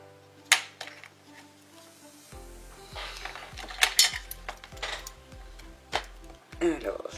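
Paper cut for a scrapbook baby album, with scissors snipping in a quick irregular series of close crisp clicks and rustles, a few louder bright snaps standing out.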